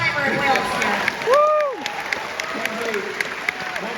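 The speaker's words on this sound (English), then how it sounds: "Round of applause for our first timer in Wales here." Audience applause and cheering at a Comic Con panel in Wales, a broad crowd wash with scattered claps, while voices talk over it.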